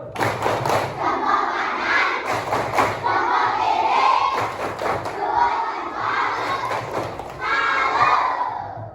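Grade 4 and 5 pupils in a primary school classroom shout a clapping chant in unison, with sharp rhythmic clap bursts punctuating their loud group voices throughout.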